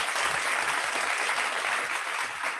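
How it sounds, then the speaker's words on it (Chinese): Audience at a seminar clapping, a dense steady burst of applause from many hands that holds at even loudness for the whole span, with no talk over it. "给你们掌声一下"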